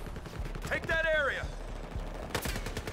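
A suppressed gunshot and another shot in Battlefield Hardline multiplayer, with a short whistling, wavering tone in the middle and a sharp burst near the end, over background game noise.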